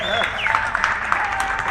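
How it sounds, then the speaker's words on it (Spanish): Guests at a birthday gathering with motorcycles applaud the grill cooks after lunch, clapping under a loud voice and other talk. "Vamos a brindar un fuerte aplauso a los asadores."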